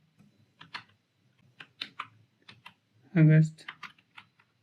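Keys clatter on a computer keyboard while code is typed, quick clicking bursts mixed with a person speaking over them.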